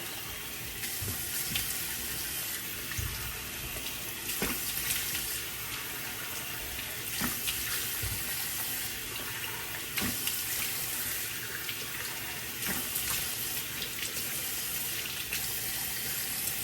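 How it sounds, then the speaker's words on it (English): Tap water running into a bathroom sink with repeated splashes as hands scoop water up to rinse a face, steady close flow broken by sharp splatters. "when I rinse my face, I kind of just splash the water up and let it run down"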